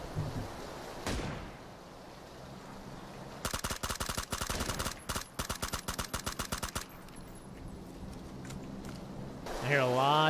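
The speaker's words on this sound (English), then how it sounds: "I hear a lot of shots nearby" Gunshots ring out nearby in the video game PUBG, with a few single cracks followed by rapid, loud bursts of automatic fire that then fade back to quiet ambience. A brief voice is heard near the end.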